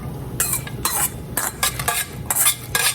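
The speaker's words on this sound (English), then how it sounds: "Pour these in the boiling pot" Fresh peas rattle and clatter into a pot of boiling water in several quick pours, separated by short pauses, over a low bubbling background.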